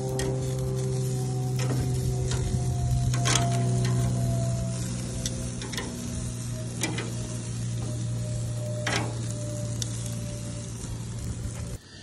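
Marinated vegetables, carrots and jalapenos, sizzling on a grill, a steady close crackle with scattered sharp ticks and pops running throughout, with a low tonal hum underneath.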